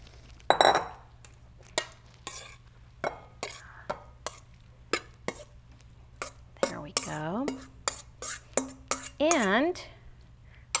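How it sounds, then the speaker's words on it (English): Corn salad with avocado and basil is spooned into a serving bowl, giving a steady series of sharp clinks and scrapes of utensils against dishes, with quiet talking. "I'm going to put this in a serving bowl"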